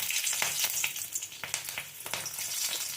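Nigella seeds and a split green chili hit hot oil in a pan, giving a steady close sizzle and crackle with small pops throughout, no voices.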